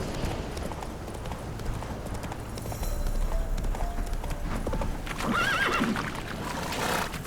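Horse Roach galloping in the video game Witcher 3, hooves clip-clopping continuously with a short whinny near the end.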